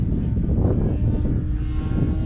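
A Titanium Trainer model airplane running its electric motor at full throttle, a loud sustained propeller drone and whirr with wind buffeting the microphone, steady for a couple of seconds with no talking.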